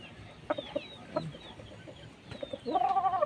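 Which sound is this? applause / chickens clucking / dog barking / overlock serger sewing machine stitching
chickens clucking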